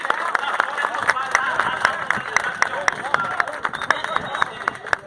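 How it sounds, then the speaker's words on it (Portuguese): Crowd at a taxi drivers' protest in Salvador, Bahia, applauding a taxi driver, with dense rapid clapping running throughout under loud crowd babble and voices. "Eu gostaria que você aplaudisse esse cidadão"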